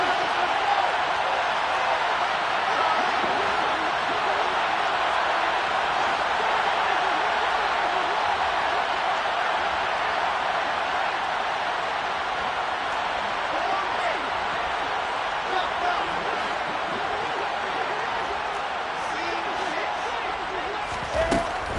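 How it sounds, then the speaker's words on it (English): A steady, dense roar from a stadium crowd in the Madden football video game builds ahead of a big third down. It holds at an even level throughout, with a commentator's voice over it. "The crowd getting into it as we come up on a big 3rd down."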